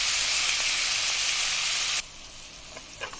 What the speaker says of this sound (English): Add the chopped onions. Fry it for 3 minutes till they become translucent and a little golden brown.